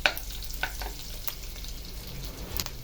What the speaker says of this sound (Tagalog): sikapin natin na mag-fry na mabuti yun, yung ginger natin